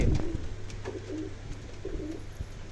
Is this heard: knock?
no